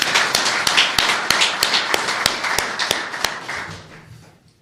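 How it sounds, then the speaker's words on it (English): Scattered clapping from a small audience at a press conference introducing a No. 16 overall draft pick, sharp distinct claps over a soft patter that thins out and fades toward the end. "So let's get a round of applause for them real quick."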